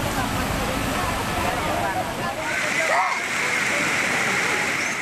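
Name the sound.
rushing floodwater after heavy rain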